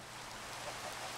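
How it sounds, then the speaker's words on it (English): Rainfall in Fallout 4, a broad, constant wash of drops hissing evenly at low level, with no speech and only slight swells in loudness. "One part is snowing, and the other part is raining."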